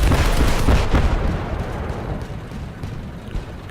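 A heavy cannon shot in the Crossout video game, a single loud booming blast that rumbles and decays over a few seconds, close and dominant, with no talk.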